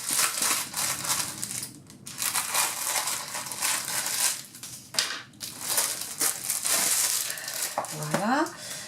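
Scissors cutting open a die-cut craft package, a continuous crinkling, crunching sound of blades working through packaging, close and fairly steady with brief pauses.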